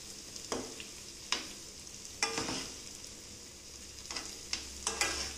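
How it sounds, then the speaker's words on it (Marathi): Potatoes and mutton keema kababs being stirred in a frying pan, with a low steady sizzle broken by several distinct scraping stir strokes, close and alone with no talk. "आपण बटाटेसुद्धा थोडीशी फिरवून घेऊया."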